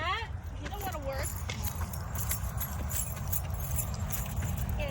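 Keys jangle and clink in scattered metallic bursts at close range, continuing beneath steady conversation outdoors during a dahlia dig.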